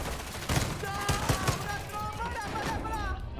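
Several sharp bursts of gunfire crack in quick succession over a steady background hum, followed by a fainter rising tone.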